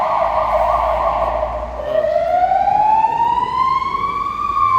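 A police car siren wails loud and close, holding a steady tone before sweeping into a rising, rolling wail over a background of traffic rumble.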